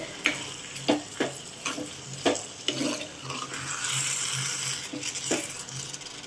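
Squid for a Jaffna-style kanavai pirattal is stirred with salt in a sizzling pan, with repeated scraping and knocking strokes of the spoon over a continuous frying hiss and no voices.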